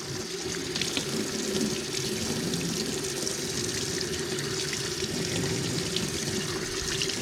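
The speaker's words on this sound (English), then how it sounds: "get that cold water going again." Cold water runs steadily from a kitchen tap into a sink while trout is being cleaned, a constant close hiss and splash with no talking.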